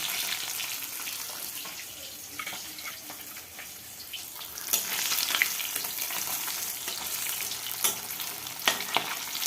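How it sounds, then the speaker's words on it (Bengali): Fish frying in hot oil in a home kitchen, a continuous hiss and crackle that grows louder midway, with scattered sharper pops and spits, no talk. "আমার মাছ ভাজা প্রায় হয়ে গেছে"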